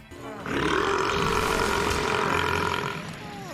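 A long, loud, exaggerated cartoon burp from SpongeBob roars for about two and a half seconds, deep and rumbling like a beast, then trails off.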